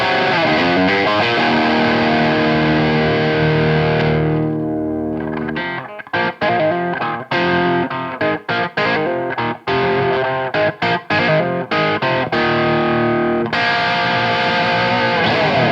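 A Victory Super Sheriff VS100 amp on its Hot Rod Gain 2 channel with gain at ten o'clock, loud and close, played as sustained distorted chords that give way to choppy, rhythmic palm-muted riffing and return to ringing chords.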